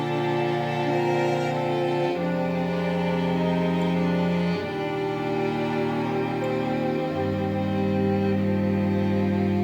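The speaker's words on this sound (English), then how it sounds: "And then the rest of the strings sound like this." String arrangement in a post-chorus, with sustained, layered notes that shift chords every couple of seconds in a smooth, continuous wash, alone with no voices.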